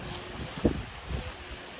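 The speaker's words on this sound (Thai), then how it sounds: "โอ้ลมแฮะ" Wind gusts through a rambutan and durian orchard, a steady broadband rush against the microphone with a brief louder buffet partway through, no clear talk.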